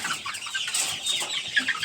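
Several hens clucking and murmuring close by, a busy overlapping chatter of short, throaty calls with no talking.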